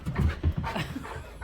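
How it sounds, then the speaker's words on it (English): Rambunctious dogs on a sunporch panting rapidly and loudly close by, a quick rhythmic huffing that runs through the whole moment with no talk. "These dogs are a little rambunctious."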